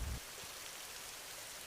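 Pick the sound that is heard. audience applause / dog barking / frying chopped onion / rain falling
rain falling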